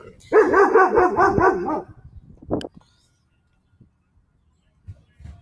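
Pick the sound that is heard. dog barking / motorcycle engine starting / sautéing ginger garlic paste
dog barking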